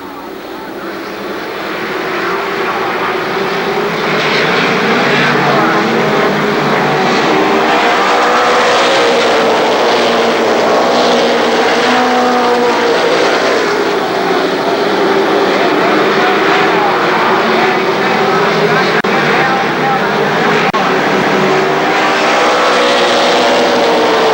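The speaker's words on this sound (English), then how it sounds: "Green flag flies, and we are finally racing for 100 laps for the main event." Race cars roar around an oval at Columbus Motor Speedway during a 100-lap main event, a dense, loud, sustained engine howl that swells and fades as the pack passes, with no pause throughout.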